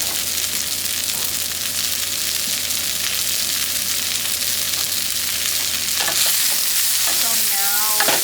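Carrots fry and get stirred in a pot for a budget meal prep, a steady close sizzle with scraping stir strokes growing busier near the end, no voices.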